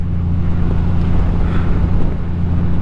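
A 2024 Honda Gold Wing with DCT cruises on the road, its low, smooth engine hum blending with continuous wind buffeting against the microphone, loud and unbroken, with no voices.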